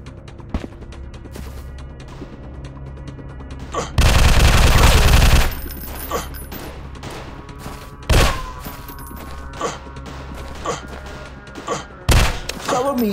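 Video game gunfire rings out in a busy firefight, with bursts of automatic shots, a long loud sustained volley, and several sharp single blasts over a constant background rumble.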